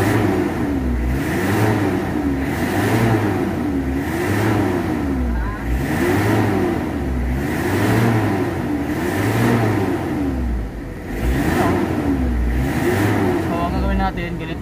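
A Toyota 2L diesel engine revs up and down in a steady repeating cycle, loud and close, with speech in between.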